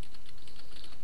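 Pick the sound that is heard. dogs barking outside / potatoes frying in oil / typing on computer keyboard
typing on computer keyboard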